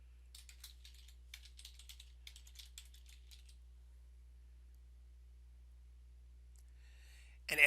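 Someone types quickly on a computer keyboard while filling in an Access form, a close run of key clicks for about three seconds before a long quiet stretch and a short clatter at the end.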